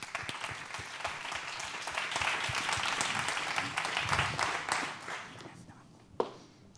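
Conference audience applauding a speaker introduced at a talk on artificial intelligence in the food industry; steady clapping swells, then thins out and fades near the end, with speech faint beneath.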